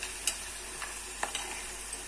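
Ginger garlic paste frying in a pan with curry ingredients while being stirred, a steady faint sizzle broken by a few soft scraping strokes, with no talking.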